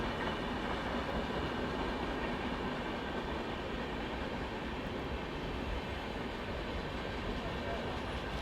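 An AP Express passenger train rolls past on the Delhi–Bhopal main line, accelerating hard as it overtakes, producing a loud, steady, unbroken roar of wheels and rails throughout.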